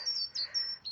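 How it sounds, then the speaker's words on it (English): Small birds sing outdoors in a series of four quick, thin high chirps and whistles, faint and somewhat distant, with no one talking. "Bird song."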